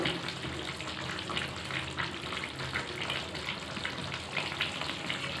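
Chicken frying in a pan and being stirred: a dense, steady hiss of frying with soft, repeated scraping underneath, close and even throughout.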